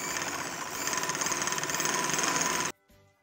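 A sewing machine stitches elastic into a capri waistband with a fast, steady mechanical chatter that quickens slightly, then stops abruptly near the end, leaving a few faint clicks.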